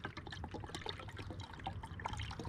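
500 ml of cold water is poured into a camping stove pot for the GSI Pinnacle burner test, a close, continuous splashing trickle that stays steady for a couple of seconds.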